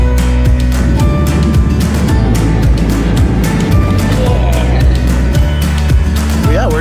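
A small aircraft taking off from inside the cabin in South Australia, a loud steady engine drone with rumbling low tones and shifting pitch, close and constant throughout.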